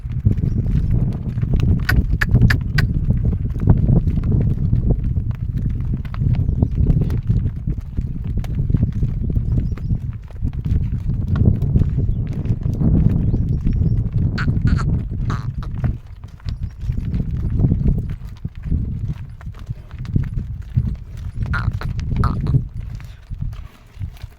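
Hooves of several cattle clop and shuffle steadily along on their way to water, close by and loud, with occasional animal noises mixed in.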